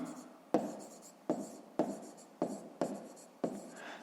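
Handwriting during a fifth-grade maths exercise: six short, scratchy strokes land at a regular pace, close and clear, with no talking.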